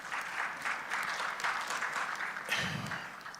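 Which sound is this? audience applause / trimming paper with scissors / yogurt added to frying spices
audience applause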